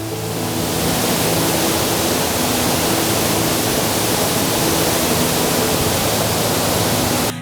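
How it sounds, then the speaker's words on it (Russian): The Uchan-Su waterfall roars in winter, swollen with rain and melting snow. The rushing water makes a loud, steady, broadband roar that fills the whole stretch, then cuts off abruptly at the end. "Именно сейчас, в это время года, водопад очень шумный и полноводный."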